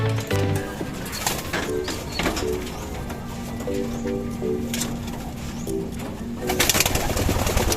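A pigeon coos in soft, repeated low phrases nearby, with a few brief chirps and rustles around it.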